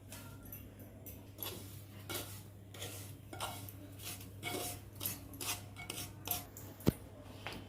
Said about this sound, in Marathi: आता आपण ह्याला काढून घेऊया एका ताटात।